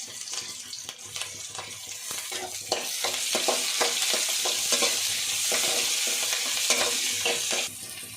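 Onion, green chilli and curry leaves fry in hot oil with cauliflower in a pan, giving a steady close sizzle broken by repeated scraping stirs of a spoon, with no voices.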